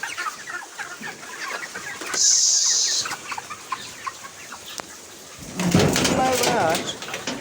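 Broiler chickens cluck and chatter steadily on a poultry farm, a dense flock sound with a short burst of higher noise partway through and a louder rustling surge near the end, with some voices mixed in.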